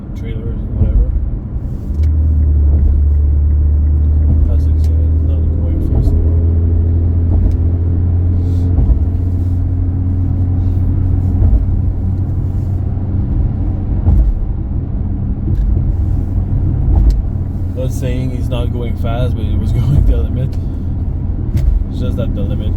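A car cruising at about 80 mph on a highway at night, with a steady low engine and road rumble throughout and a brief surge around the midpoint. Someone talks over it for most of the time.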